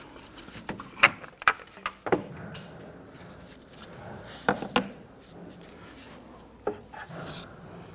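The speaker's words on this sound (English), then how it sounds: "I'm going to go ahead and work the jack a little bit" A jack is worked under a 2017-2020 Hyundai Elantra to raise an engine mount, giving close, sharp metallic clicks and knocks in short irregular clusters with quieter gaps between them.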